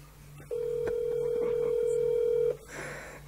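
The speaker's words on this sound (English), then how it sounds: "Yeah, we can hear the ringtone." A phone ringback tone heard over a speakerphone call, one steady electronic tone lasting about two seconds, clear and close, over faint room noise.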